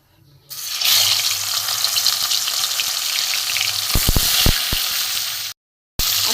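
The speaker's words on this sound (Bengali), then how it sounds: "আমি মাছগুলো ভেজে নেব।" Pieces of rohu fish drop into hot oil in a pan and set off a loud, steady sizzle, with a few knocks and clinks partway through and a brief gap near the end.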